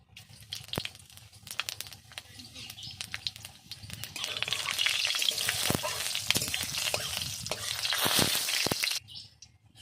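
Panch phoron spices hitting hot oil in a wok for a vegetarian dish, a soft crackling sizzle that swells and grows denser, then cuts off abruptly near the end.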